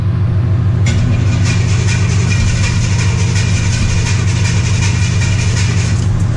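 A 1984 Chevy C10 engine with a manual choke fires up and keeps running, giving a loud, steady rumbling idle close by with a slightly uneven, pulsing rhythm.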